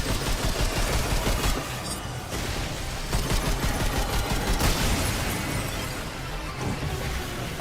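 Rapid video game gunfire rattles in dense, sustained bursts, loud and close, with short gaps and crackling impacts while the shooter focuses fire on floating orbs.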